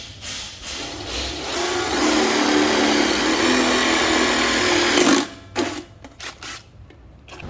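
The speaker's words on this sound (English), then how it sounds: "you're going to take your drill and go into the hole on the bottom and drill a hole through the dolly" Power drill boring a hole through the dolly during a winch kit installation, a steady loud whirring run of about five seconds that cuts off, followed by short bursts and clanks.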